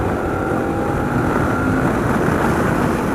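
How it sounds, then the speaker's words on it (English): KTM 1290 Super Adventure motorcycle engine at full throttle at speed, a loud sustained roar blended with wind rush, steady without pause. "That's full throttle, and I'm already doing 160"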